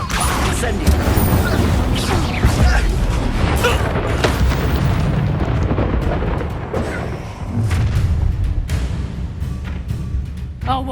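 Incendio fire spell cast in Hogwarts Legacy, heard as a stream of loud booming blasts and crashing impacts that keep rolling for several seconds amid battle noise.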